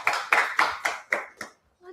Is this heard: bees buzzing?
no